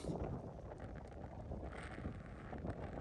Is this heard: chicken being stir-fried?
no